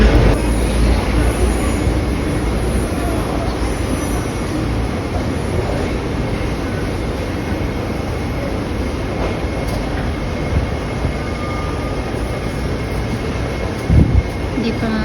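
Train noise at a Hong Kong station platform, a steady broadband rumble filling the whole stretch, with a brief louder knock near the end and some voices faintly in the background.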